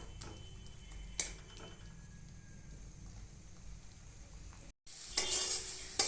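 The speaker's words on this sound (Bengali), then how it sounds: "এবার মশলাটা খুব ভালো করে কষে নেব।" Masala spices frying and being stirred in a pan for a nadosh fish curry with brinjal, a steady soft sizzle with scraping stirs, then a louder sizzle near the end.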